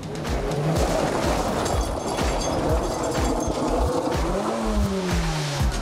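An old car drives hard over gravel and dust, its engine roaring loudly and continuously with crunching, rumbling tire noise throughout, close by.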